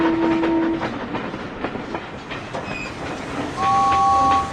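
A steam train engine runs along the rails with a steady rumble and rhythmic clatter, and a brief high whistle tone sounds at the start and again near the end.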